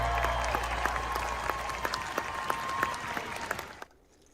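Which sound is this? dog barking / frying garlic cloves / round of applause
round of applause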